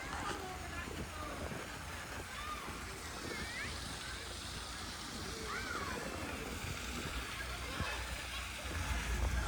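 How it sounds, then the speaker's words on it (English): A small waterfall feeding a little stream in a public garden, its steady rushing and splashing running continuously at moderate level, with a bird calling now and then in the background. "It's a lovely little waterfall there, lovely little stream."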